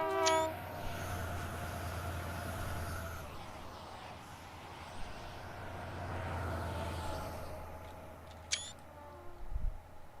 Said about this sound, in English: You can hear the rear static braking in it.